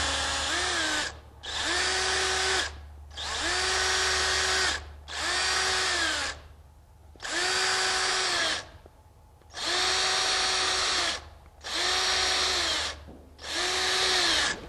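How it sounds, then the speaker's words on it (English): Power drill pre-drilling holes for a hoof clog, eight loud bursts of whirring, each one or two seconds long, separated by short pauses, close up and with no talking. "All right, I'm going to pre-drill these."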